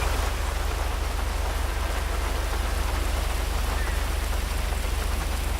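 Heavy rain from the game GTA V with the LSPDFR mod pours down in a loud, steady hiss of drops on surfaces, unbroken and even from start to finish, with a low hum beneath.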